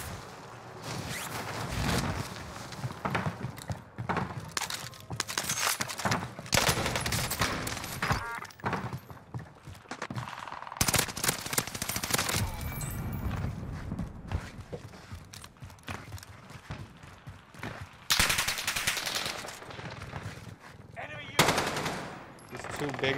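XM4 assault rifle fire rattles through a Warzone match on Rebirth Island, loud bursts of automatic shots in repeated strings broken by short pauses, with game effects mixed in.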